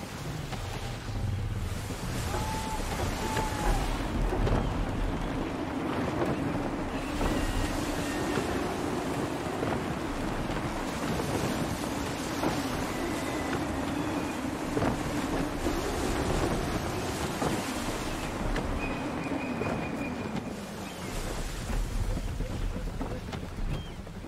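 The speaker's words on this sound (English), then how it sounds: "Wind looks to be shifting. Stay alert, Connor. Gusty winds can be difficult to manage." Gusty wind roars over a sailing ship at sea in Assassin's Creed III, a loud, constant rush of wind and water with creaking and splashing that swells and eases throughout.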